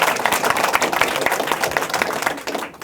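Audience applause at a public meeting on homeless outreach services, a dense, fairly loud patter of many hands that holds steady and then fades out near the end.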